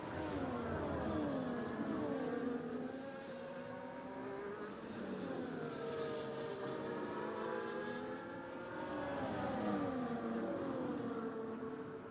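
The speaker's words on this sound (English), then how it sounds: "Mirko locks up, smoke coming off the tyres into the visor of Phoenix Grey in that Red Bull" Formula 1 cars in an F1 esports race, a Red Bull and a Ferrari at the Brazil Grand Prix: several high-revving engines whine and sweep up and down in pitch continuously and loudly, overlapping one another throughout.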